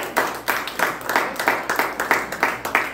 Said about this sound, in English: don't know why y'all clapping